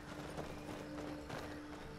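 Horse hooves clip-clop steadily in Skyrim Special Edition, a soft, even rhythm of footfalls at low volume with no talk over it.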